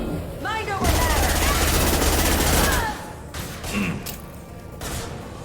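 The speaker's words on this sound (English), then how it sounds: "Firing a high impact shot" A high-impact weapon shot in the Mass Effect 2 video game: a loud, dense blast of gunfire holds for about two seconds, then drops back to quieter combat noise with smaller bursts.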